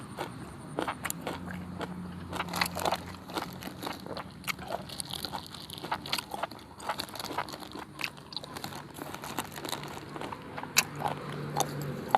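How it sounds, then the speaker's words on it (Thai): Someone eats Thai papaya salad with fresh shrimp and pork leg, with loud, crunchy bites and chewing repeating up close for several seconds and no talk. "เคี้ยวดังกึดกึดกึดนะครับ"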